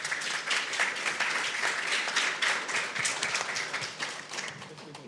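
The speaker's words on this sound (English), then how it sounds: "if we could just give you guys a round of applause" Applause from a conference audience for a marketing panel, a dense steady patter of many hands clapping for about five seconds, tapering slightly at the end.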